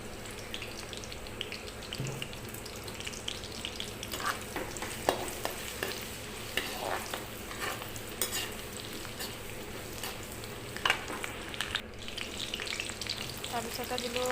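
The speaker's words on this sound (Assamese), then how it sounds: "সেইখিনি ৰৈ যোৱা তেলতে মই কুটি থোৱা নহৰুখিনি দি ল'লোঁ।" Chopped garlic fries in leftover oil for chicken manchurian, a steady, dense close sizzle with occasional stirring scrapes running throughout.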